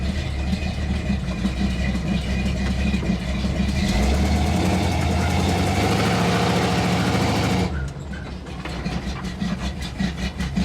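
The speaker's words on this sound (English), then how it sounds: "I hope that's a exhaust leak and not a lifter tick." A truck engine idles steadily with a fast, rhythmic ticking from an exhaust leak or lifter tick running through its rumble; the pitch shifts briefly partway through.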